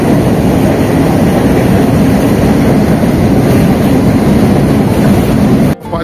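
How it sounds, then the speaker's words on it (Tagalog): A loud, steady rumble of a Manila LRT light rail train passing overhead fills the scene, cutting off abruptly near the end. "Yan, dumadaan yung LRT sa taas."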